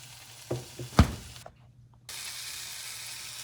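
Meat sizzles on an indoor grill, a steady frying hiss with a couple of sharp ticks early on and a brief drop to near silence before the sizzle resumes.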